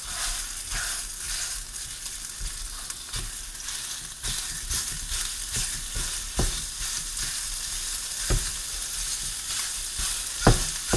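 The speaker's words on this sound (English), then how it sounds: "I'm just going to mash it down with a heat-proof rubber spatula" Food being mashed down with a heat-proof rubber spatula in a hot pan while frying, a steady sizzle broken by sharp scraping and tapping strokes, up close with no talking.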